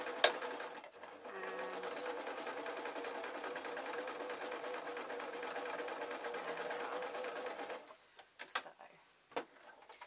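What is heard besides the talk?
sewing machine stitching a spider soft toy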